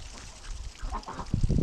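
Breeding ducks forage in spring mud, giving soft quacks and muddy dabbling sounds close by, with a louder burst of activity near the end.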